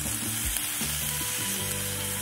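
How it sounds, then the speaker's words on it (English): Bacon frying in a pan, a steady close sizzle with continuous crackling and popping, no voices. "Just cooking up a bunch of bacon."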